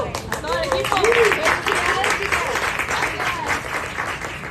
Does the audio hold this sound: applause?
yes